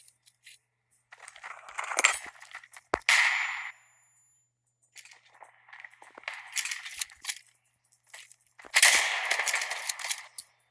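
Sharp, crackling bursts of gunfire in the mobile shooter Standoff 2, clustered volleys of quick cracks separated by brief silences, loud and close.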